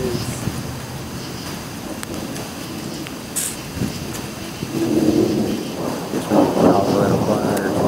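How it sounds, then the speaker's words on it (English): Low, rumbling thunder rolls in the distance over steady rain and wind noise, swelling slightly toward the end, during a severe night storm over the mountains in Flintstone, Georgia. "It's sitting out here thundering."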